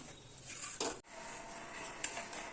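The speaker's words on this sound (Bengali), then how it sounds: "এবার আমি বেসনের বাটারটা তৈরি করব" Chickpea flour batter being mixed in a bowl, heard as a faint scraping, stirring sound with a couple of light clinks of a utensil against the bowl rim.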